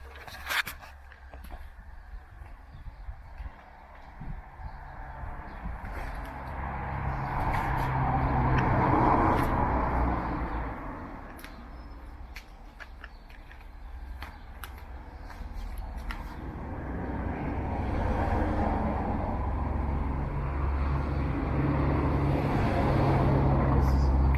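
Faulty Bafang e-bike motor running on its thumb throttle, a rough whirring drone that swells and fades in two long surges, with scattered clicks and scraping over a low rumble.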